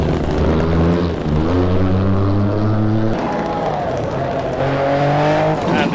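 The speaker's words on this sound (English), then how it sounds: "for some reason that car is horribly loud" A rally car roars through a Kielder Forest stage, horribly loud, its engine note climbing through gears with sharp shifts and a brief cut before revving hard again up close.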